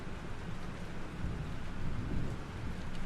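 Heavy rain pours steadily with rolling thunder in a stormy scene from the game Life is Strange, a dense and continuous wash of sound with no voices.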